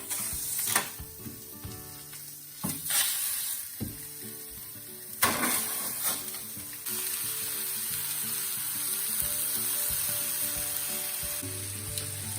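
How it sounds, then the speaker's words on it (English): Chicken frying in oil in a Saladmaster stainless pan, a continuous close sizzle with several loud clattering bursts of stirring or handling the pan, then a steadier, louder sizzle. "now we're ready to fry the chicken with our oil."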